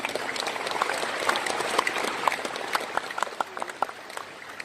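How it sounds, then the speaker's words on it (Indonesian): Applause from an audience at an Islamic sermon, a sustained rattle of many clapping hands with sharper individual claps standing out toward the end. "Tepuk tangan buat saudara semua."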